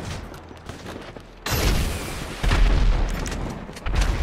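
Video game gunfire rings out in heavy bursts, with a sharp loud volley starting midway and further booming shots following, dense and close, with rumbling explosions underneath.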